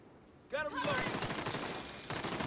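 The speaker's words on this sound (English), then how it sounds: "Can't let them use that minigun." Enemy minigun in The Division 2 opening up with a sudden, continuous rapid stream of loud shots after a brief quiet moment, with a voice heard as the firing begins.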